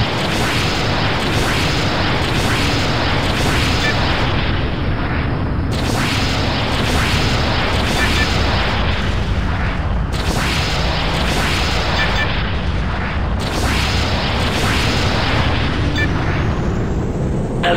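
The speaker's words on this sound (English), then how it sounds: "Attack these ground targets quickly by using your rockets." Rockets strike ground targets in the video game Echelon, with repeated heavy booming blasts at intervals of roughly four seconds over a continuous loud roar of flight noise.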